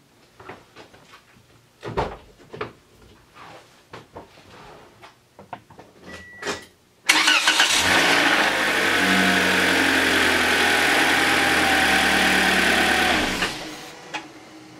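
A 2016 Toyota Corolla LE Plus: a few faint clicks and knocks, then the engine cranks and catches abruptly, settling into a loud, steady close idle that runs for several seconds before dropping away.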